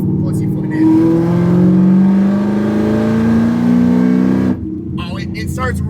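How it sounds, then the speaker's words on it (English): A car accelerates hard in third gear up a hill, its engine note rising steadily and loud for about four seconds before the throttle lifts and the sound drops away. "we'll try third gear up the hill. Just kind of pussyfoot in."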